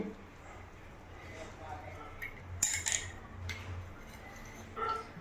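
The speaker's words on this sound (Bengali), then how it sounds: "একটা চামচের সাহায্যে সাইডটা একটু আগে ছাড়িয়ে নেবো এরকমভাবে" A metal spoon scrapes and loosens the sides of a homemade oil-free snack in its cooking vessel, with a few short scraping and clinking bursts over a steady low background hum.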